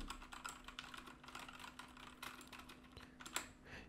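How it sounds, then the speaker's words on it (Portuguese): Quiet, rapid keystrokes on a computer keyboard picked up by a Fifine A8 microphone, a continuous stream of soft clicks with a faint steady hum underneath. "deve ter diminuído a maior parte dos sons que vazam de teclado"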